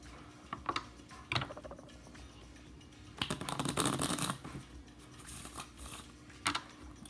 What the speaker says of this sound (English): we're just going to give it a quick couple of shuffles.